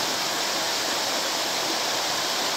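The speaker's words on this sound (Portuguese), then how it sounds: "É a cachoeira." Waterfall pouring down beside a tall rock wall outdoors, a constant dense roar of rushing water, loud and unbroken throughout with no voices.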